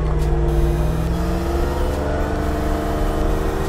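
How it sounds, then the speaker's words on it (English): A 2009 GMC Acadia SLT SUV engine idling and revving close by, its deep exhaust rumble rising and holding steady throughout. "That gas one time for us, Miss Mary, so we can hear what the exhaust sound like."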